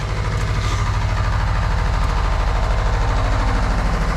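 A generator runs close by with a steady, loud mechanical drone and low throbbing hum, unchanging and continuous, with no talking over it.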